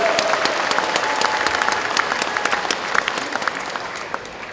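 Applause from the crowd at a Liberty Korea Party central committee rally, a dense, loud wash of many hands clapping continuously, with a faint voice over it.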